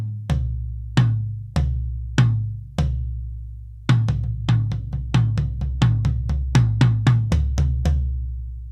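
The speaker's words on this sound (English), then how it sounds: "now that we've got our balance of our rack and floor toms all settled" A close, solo pattern on rack and floor toms: a few spaced single hits, then a faster run of rolling strikes alternating between higher and deeper drums.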